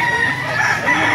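A rooster crows loud and close at a busy Baliuag market, its long call filling the moment with no talk over it.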